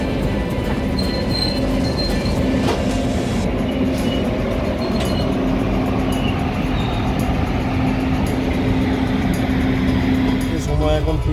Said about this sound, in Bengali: আমাদের ট্রেন কিন্তু ছেড়ে দিল মাদুরাই জংশন থেকে একদম নির্দিষ্ট টাইমে।